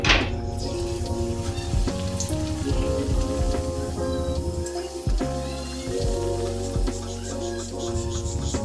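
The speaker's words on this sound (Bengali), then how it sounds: "পরিমাণে অনেক ছিল, তাই ধৈর্য ধরে অনেকক্ষণ ধরে এটা সময় লাগছে ভাজতে" Palm fruit luchi, a puffed puri, deep-frying in hot oil, giving a dense, continuous crackling sizzle with scattered pops that stays close and fairly loud throughout.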